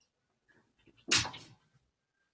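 A single sharp human sneeze bursts out loudly indoors, preceded by a faint intake of breath and followed by brief quiet.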